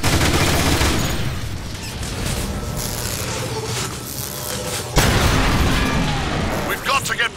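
Sniper gunfire in the Transformers War for Cybertron video game, a dense run of cracks and booms from a battle scene, loud and continuous with voices talking over the action.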